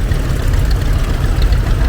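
A John Deere Model B antique tractor at a tractor show and parade idles close by, a loud, steady low-pitched engine rumble with no voices over it.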